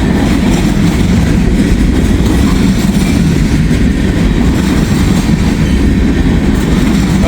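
A freight train rolls past close by, a loud, steady rumble of wagons and wheels with faint rhythmic clacking that holds for the whole stretch, no voices.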